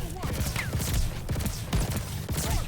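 Short bursts of fire from a World War II gun with a burst attachment in Call of Duty Vanguard, several clustered cracks in quick succession mixed with game ambience.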